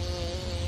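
A bee buzzes in a very short, steady, loud drone close by, a continuous hum with no break and no talking.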